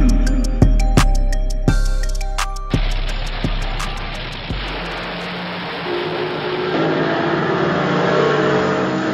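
1/32 scale slot cars racing on a tournament track, a few sharp clicks early, then a continuous high electric motor whine that holds steady to the end, with no voices.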